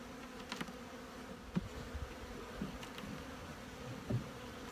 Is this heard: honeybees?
yes